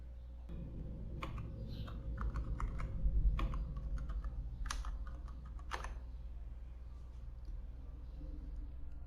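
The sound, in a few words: typing a password on a computer keyboard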